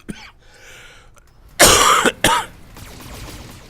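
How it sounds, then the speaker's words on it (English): One person coughs loudly and close to the mic, a hard burst followed by a second short cough, with quieter throat sounds before and after. "Really sorry about the cough."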